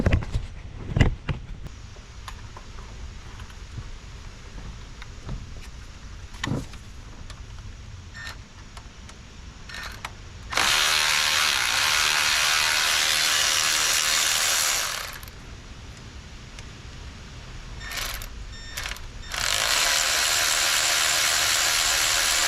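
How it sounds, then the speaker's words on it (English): A power tool running in bursts while a screw is removed from a wiring harness bracket on a Dodge Sprinter, a loud sustained whine for several seconds, then short bursts amid clinks and handling noises. "So I'm gonna have to remove that screw one more time."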